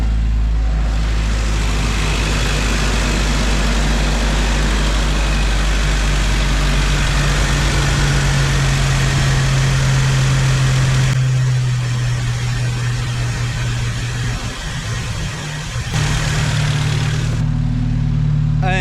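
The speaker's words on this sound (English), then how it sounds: "I think it's idling smoother than it ever has" A Jeep Wrangler engine idles steadily after an injector upgrade, a loud close low rumble with a smooth even hum that shifts slightly in tone midway, and a voice speaks briefly over it.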